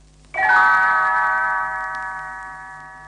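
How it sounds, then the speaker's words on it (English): A single bright, shimmering bell chime rings out and slowly fades away, with nothing else around it. "You will know it is time to turn the page when Tinker Bell rings her little bells like this."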